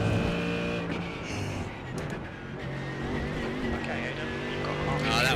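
GT3 race cars at Road Atlanta in a racing video game: continuous engine roar with changing pitch and tire noise, a car passing through, and a voice talking over it.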